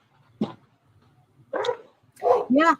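A dog barks in a home in a few sharp bursts: one short yelp, a longer bark after a pause, then two quick barks close together, fairly near and loud against a quiet room.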